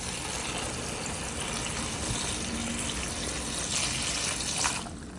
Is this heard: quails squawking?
no